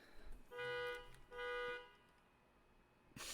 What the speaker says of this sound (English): I don't know if you heard that, but someone's honking.